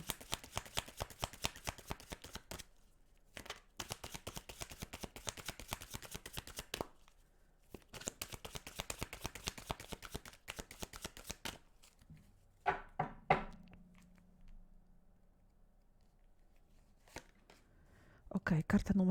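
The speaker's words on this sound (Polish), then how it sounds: "Wybiorę sobie teraz trzy karty anielskie, tak? I będziemy do nich sobie tutaj rozkładać karty." Angel oracle cards are shuffled in long, rapid riffling bursts separated by brief pauses, then drawn and laid out with a few soft taps and slides, while someone talks quietly.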